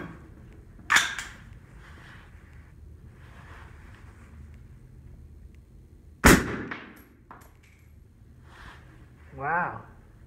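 A 6.5 Grendel rifle fitted with a 5-inch suppressor can fires two sharp, loud outdoor shots several seconds apart, with steady wind and a low background rumble underneath, and people talking throughout.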